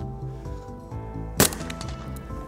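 A single sharp rifle shot cracks from a Sig MCX Spear LT or LMT MRP 11.5-inch piston upper at an outdoor range, loud and near, with ringing echo over a steady low background.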